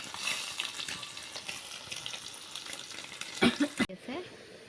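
Fish sizzling in a frying pan in a home kitchen, a steady crackling hiss with water-like spatter, a few louder clatters near the end and faint background voices.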